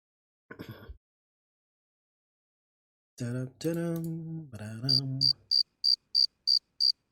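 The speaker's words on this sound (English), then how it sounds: "Again, those crickets." Crickets chirp in the Star Wars Galactic Battlegrounds video game: a steady run of evenly spaced high pulses about twice a second, following a few short synthetic sounds and some tonal blips.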